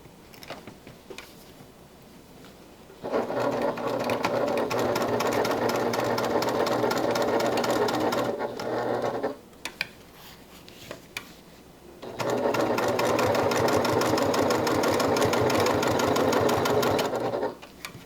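Sewing machine running in two sustained bursts of steady, even stitching while top stitching a folded seam on fabric, with a quiet pause between runs and no talk.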